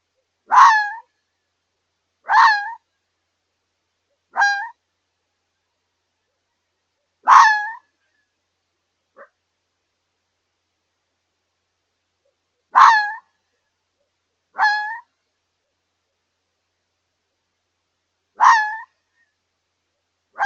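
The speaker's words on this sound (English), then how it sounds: "The other night we had some serious noise going on outside of our RV" A fox's sharp, raspy call repeats about eight times at irregular intervals, loud and close against an otherwise silent night.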